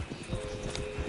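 Horses gallop in the game Red Dead Redemption 2, their hooves beating a quick, steady clip-clop rhythm over a low background hum, close and moderately loud.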